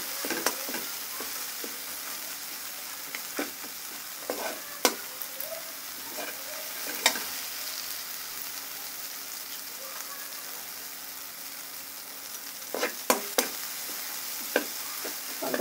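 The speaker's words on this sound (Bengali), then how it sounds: "ভালো করে কষিয়ে নিতে হবে।" Fish curry ingredients for a mola fish and radish greens curry being sautéed with a little water, a soft steady sizzle under occasional sharp scrapes and taps of a stirring spoon.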